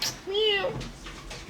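A cat gives one clear rising-and-falling meow close by, followed by faint background sounds and indistinct voices.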